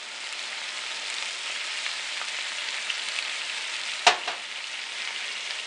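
Low sodium soy sauce goes into a hot pan with a steady, close sizzle and frying hiss, broken once by a single sharp clack partway through.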